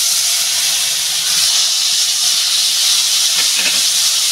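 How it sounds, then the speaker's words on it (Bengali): Sliced bitter gourd fries in hot oil in a home kitchen, giving a loud, steady, bright sizzle with a few crackling pops toward the end. "আমি সবার প্রথমে যে এই উস্তেটা আমি তেলে ভেজে তুলে রাখবো।"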